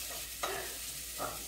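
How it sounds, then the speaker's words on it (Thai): Ginger chicken being stir-fried in a pot instead of a wok, with soft sizzling under two distinct scraping stirs of a utensil against the pot. "ผมกำลังทำอาหารเย็น ทำไก่ผัดขิง"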